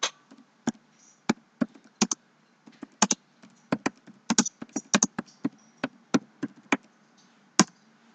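Keystrokes on a computer keyboard while text is entered in a desktop publishing program, close and moderately loud, in irregular bursts of clicks with short pauses, no voices.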